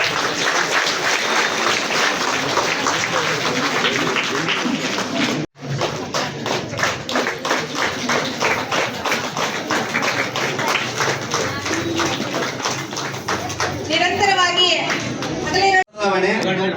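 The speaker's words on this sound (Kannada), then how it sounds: "ವಿದ್ಯಾರ್ಥಿಗಳು ಜೋರಾಗಿ ಚಪ್ಪಾಳೆ ತರಬೇಕು" Students at a high school opening ceremony break into loud, sustained clapping that fills the space, with a crowd murmur and a brief pause before the applause resumes.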